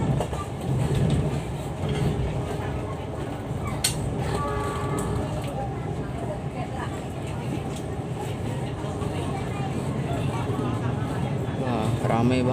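The Argo Sindoro train on the Gambir to Semarang Tawang route rumbles along the rails in a sustained, fairly loud roll with faint rhythmic clatter, while people talk over it throughout.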